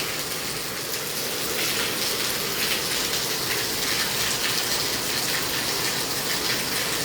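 Heavy rain pours down in Satnali during a storm, a loud, dense, unbroken roar of falling water with no voices.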